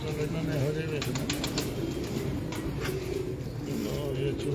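Mouse-coloured breeder pigeons cooing softly with bursts of wing flapping, heard nearby under ongoing conversation.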